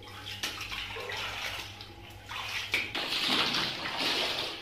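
Water splashing and sloshing as a blanket is rinsed during hand or machine washing, a steady wet rushing with a low hum beneath that stops partway, then louder splashing toward the end.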